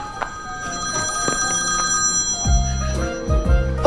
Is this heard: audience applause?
no